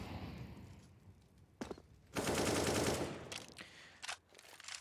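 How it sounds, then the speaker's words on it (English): Gunfire in a Counter-Strike match on the Dust 2 map at a professional tournament, rapid automatic bursts that swell into a long loud volley and then several shorter shots. "Nukia sees the blood on the wall once he connects 1 bullet onto Blocker"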